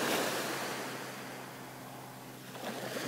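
Ocean waves wash softly over water in a faint, steady surf hiss that swells at the start and end, with light wind and no voices.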